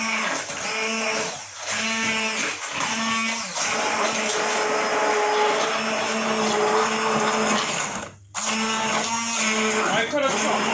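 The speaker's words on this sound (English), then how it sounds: "then we blend it all together" A blender whirring through spinach and cabbage with milk, a loud droning motor running in long bursts with pitch shifts, briefly cutting out and restarting near the end, alongside speech.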